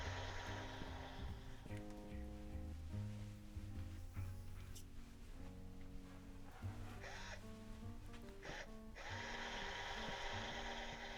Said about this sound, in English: the step bit goes through an extra step